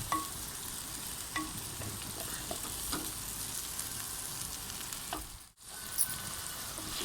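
Sago pearls sizzle gently as they brown lightly in a pan, a steady close frying hiss with a few faint stirring clicks and a brief dip near the end.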